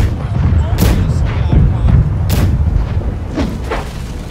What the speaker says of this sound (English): Right side cannons, target hoy,